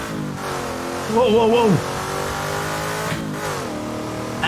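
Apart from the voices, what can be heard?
loud race car engine revving at Bathurst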